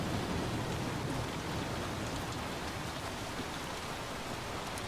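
Rain in the survival game The Flame in the Flood, an even, dense hiss of falling water that stays at the same moderate level with no breaks and no voices.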